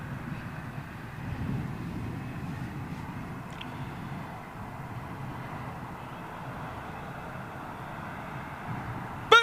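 A China Eastern airliner on runway 27L at London Heathrow gives a steady, distant low jet roar that holds throughout, with faint voices now and then in the background.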